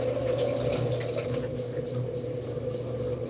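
Cold water running steadily from a tap as a container is refilled, a continuous close hiss and rush for the full few seconds with no speech over it.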